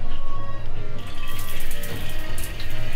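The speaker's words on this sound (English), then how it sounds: "Water flow." Water streams steadily from a single shower head with a tap at a beach eco lodge in Tavua, Fiji, a loud, continuous hiss and splatter with no speech.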